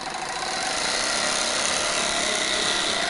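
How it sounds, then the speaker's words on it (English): A small 120-watt air compressor runs on power from a DC generator converted from a Fisher & Paykel washing machine motor, a loud steady buzzing drone close up and unbroken. "This is a small compressor which can draw 120 watts"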